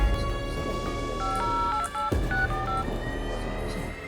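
Steady electronic telephone dialing tones, a run of short keypad beeps stepping between pitches, near and clear over a faint background hum, with no voices.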